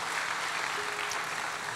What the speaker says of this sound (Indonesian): Ayo kasih tepuk tangan dulu buat Tuhan kita.